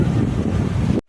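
Sea waves surge and wash against rocks in a loud, continuous roar with wind buffeting, ending abruptly after about a second.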